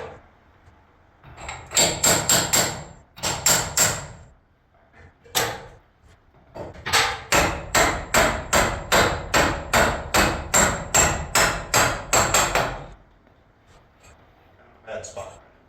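A hammer strikes metal hardware on an overhead garage door opener: a few scattered blows, then a rapid regular run of about a dozen loud, close hits, then a pause and a final light tap.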